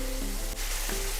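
Yogurt stir-fried for chilli paneer gives a brief, steady close sizzle in the pan, with one quick scrape of mixing partway through.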